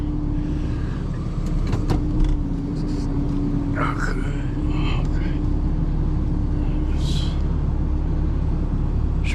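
A 2015 Ram 2500 pickup truck engine runs in a steady low rumble close by, with faint murmured voices and small knocks over the drone.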